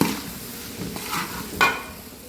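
Tomatoes for a chicken curry stirred and sautéed in a pan, a soft sizzle under scraping strokes of a spoon, with a brighter scrape near the end; close and moderately quiet, no talking.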